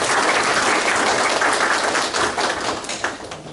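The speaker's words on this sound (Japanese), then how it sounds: "どうぞ拍手でお迎えください。" Loud, sustained applause from a lecture audience welcoming a guest speaker at a bird-study lecture, dense steady clapping that thins slightly toward the end.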